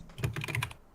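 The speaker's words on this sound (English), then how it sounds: "turn your keyboard down" Typing on a computer keyboard during a live programming session: a quick, close run of clattering keystrokes lasting about a second, with no voices over it.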